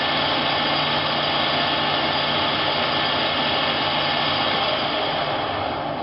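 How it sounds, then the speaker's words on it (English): Steady, loud machine whine of a drill boring a hole in metal running continuously, a dense mechanical hum with no pauses and no voices. "Drill that hole."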